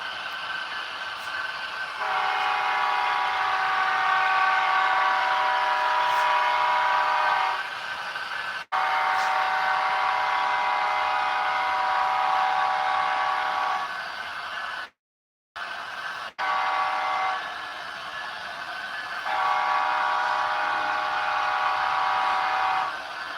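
A Union Pacific train passing through Echo on the Evanston Sub sounds several long, loud horn blasts with short breaks between them, over a low rolling rumble from the engine and rails.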